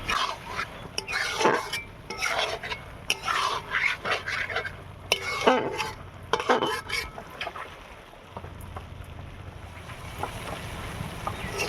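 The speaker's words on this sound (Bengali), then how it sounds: "দিয়ে আবারও ভালো করে নাড়িয়ে নিচ্ছি।" A spoon scrapes and clatters through kochu loti curry with prawns in a pot, irregular bursts of stirring and metal-on-pot knocks, fairly close, with a low background hum and no talk.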